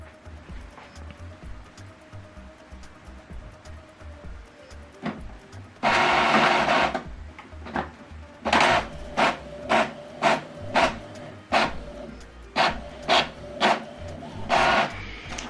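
An Epson printer printing a single page: a quiet hum, then a loud burst of feed noise followed by a steady run of rhythmic mechanical pulses as the print head shuttles back and forth, close and alone.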